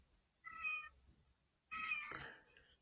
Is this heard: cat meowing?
yes